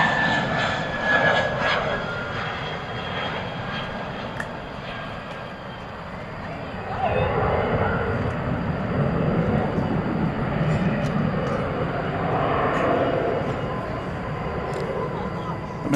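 Jet airliner taking off at night at DFW Airport: a sustained, rising engine roar at moderate distance with a whining tone, while clipped air traffic control radio chatter plays over it.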